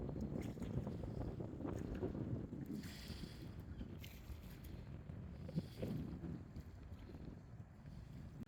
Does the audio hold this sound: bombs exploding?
no